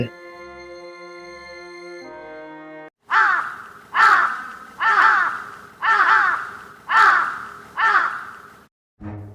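A cartoon crow caws six times in a steady, evenly spaced series of loud, harsh calls, following a short stretch of tonal music.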